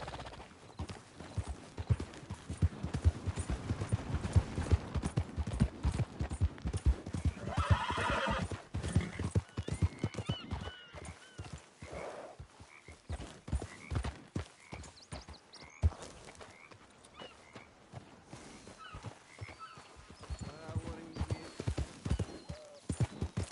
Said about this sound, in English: must cover some ground on a horse like